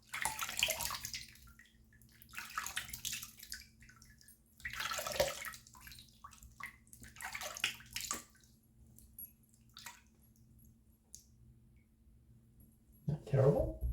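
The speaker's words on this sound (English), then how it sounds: "Give the face a little bit of a rinse." Water splashing at a sink as a face is rinsed, in several short, irregular bursts with quiet gaps between them, close and fairly soft.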